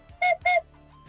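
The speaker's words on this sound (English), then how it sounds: "I have a little whistle or ocarina" Two short, clear whistle-like toots from a 3D-printed ocarina, evenly spaced and close by, followed by quiet.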